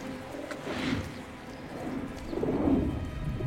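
Pigeons coo softly near a river where catfish hunt them, two low murmuring calls rising from steady outdoor background noise, moderately close and without talk.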